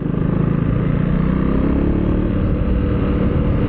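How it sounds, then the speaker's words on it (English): A 2025 Husqvarna Vitpilen 401 motorcycle running at full throttle against its speed limiter, a loud, close, steady engine drone with no gaps. "this is full throttle, but again, the bike is limiting my speed to 45 kilometers"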